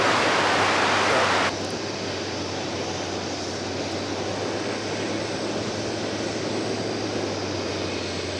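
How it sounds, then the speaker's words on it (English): An American Airbus A319 airliner landing on runway 18L at DFW airport, a loud broad roar at the start that drops off sharply after a second and a half into a steadier, lower rumble that continues. "We've got American Flight 946 from Lubbock coming in. It's an Airbus A319."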